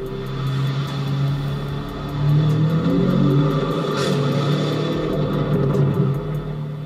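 A Lamborghini Urus fitted with a Novitec sport exhaust growls near at hand, then surges into a louder rev midway before easing back to a rumbling idle.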